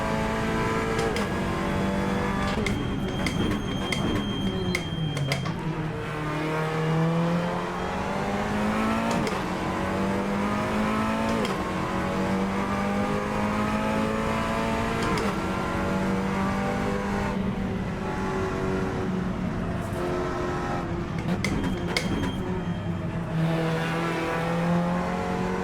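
Simulated Seat Cupra TCR race car at Portimao in Assetto Corsa, a loud, close engine note climbing and dropping through repeated upshifts and downshifts, with brief tire squeal under braking.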